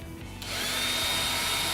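A power drill fitted with a small bit spins up and bores into a pipe held in a vise, a steady high whine that starts abruptly and holds at constant loudness with no talking.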